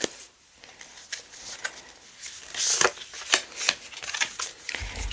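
A deck of oracle cards is shuffled and handled close by, giving soft, papery riffles and flicks in uneven bursts, with a few sharper snaps partway through.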